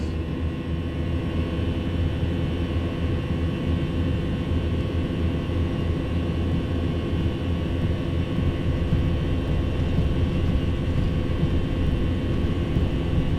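Airliner jet engines spooling up to takeoff thrust on an Innsbruck departure in a flight simulator, a loud, steady broadband roar with a sustained whine that holds throughout, no voices.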